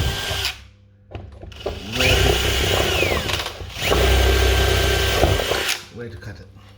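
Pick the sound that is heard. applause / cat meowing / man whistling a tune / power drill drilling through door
power drill drilling through door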